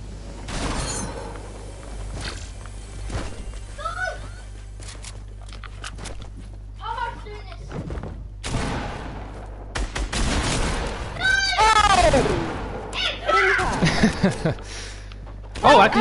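Bursts of gunfire from a teammate being shot in Fortnite, scattered shots and rapid volleys over roughly sixteen seconds, with footsteps and game effects around them and a voice talking intermittently.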